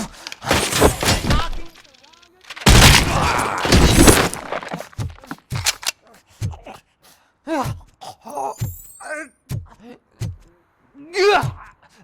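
Gunfire in the Robocop: Rogue City video game comes in two loud sustained bursts, then sharp impacts and crashing debris, with groans and voices between the shots.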